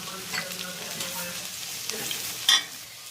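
Okra frying in a pan for a Kerala vendakka theeyal: a soft continuous sizzle with light stirring strokes, then a sharp clatter near the end, close by and without speech.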